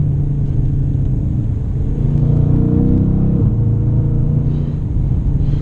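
2017 Dodge Challenger R/T engine rumbling loudly from inside the cabin as it accelerates, the tone climbing, then dropping sharply at a gear shift before settling into a steady drone.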